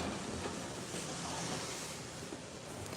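A train rumbles steadily into Kurama Station, Kyoto, with a broad, continuous roar and faint rattling, close by and fairly loud throughout.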